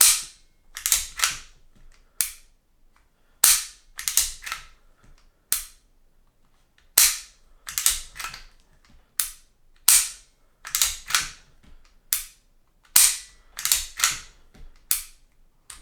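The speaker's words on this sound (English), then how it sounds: "if I pull that back and cock it again, you'll hear it, there you go, reset there" Sharp mechanical clacks and clicks repeat in uneven clusters as an Umarex T4E paintball pistol is cocked and its trigger snaps back to reset, close and crisp with pauses between.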